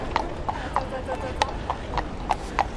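Hooves of a mounted gendarme's horse clip-clop at a steady, even walking pace, each strike crisp and fairly close, under a continuous murmur of background voices.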